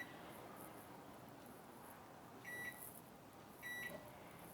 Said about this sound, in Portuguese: Agora eu vou colocar no micro-ondas